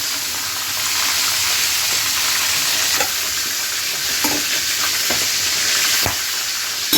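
Chicken pieces fry in hot oil with a steady, close sizzle, broken by occasional scrapes and clacks of a spatula turning the meat, and no one speaking.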